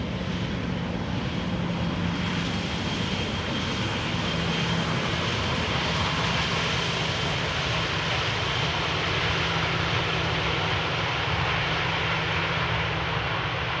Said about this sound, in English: Right, that was EasyJet landing just now.